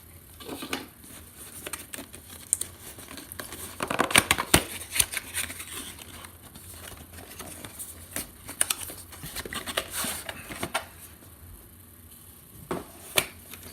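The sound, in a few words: ripping and cutting open a tiny iRig Mic Lav box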